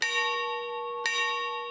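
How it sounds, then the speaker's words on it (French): Two strikes of a handcrafted metal sheep bell made in Alcáçovas, in Portugal's Alentejo region, ring out clearly, each leaving a long, bright, sustained tone, with no voices. "j'entends le son des cloches de mes brebis"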